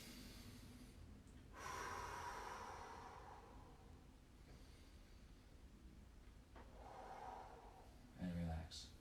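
Deep, slow breaths during a foot stretch in a mobility workout, with two long airy exhales, one early and one late, and a sharper breath near the end, close and fairly quiet.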